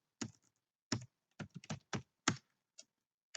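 Typing on a computer keyboard while entering data into an Excel spreadsheet: about nine separate key clacks in an uneven rhythm, close and clear, with quiet gaps between them and no voices.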